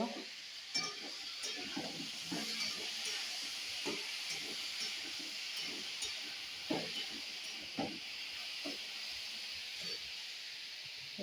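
Small diced potatoes drop into hot oil for aloo posto, giving a steady faint hiss of frying with scattered louder crackles and spatters throughout.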